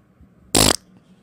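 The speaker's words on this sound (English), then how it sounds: "I farted again." Cartoon fart in a Plotagon animated Christmas scene: a single loud, short buzzy blast lasting about a quarter second, alone against near silence.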